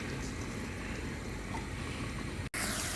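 Chopped onion sautéing in butter in a pan as the base for a creamy butternut squash casserole gives a steady, close, broadband sizzle with no talk, briefly cut off near the end before resuming.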